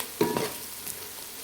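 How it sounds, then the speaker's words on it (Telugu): Ginger garlic paste frying in a pan on a large stove, a steady close sizzle with a couple of brief stirring scrapes near the start, no talk. "ఇప్పుడు ఆల్మోస్ట్ అయితే మనకి అల్లం వెల్లుల్లి పేస్ట్ మగ్గిపోయింది"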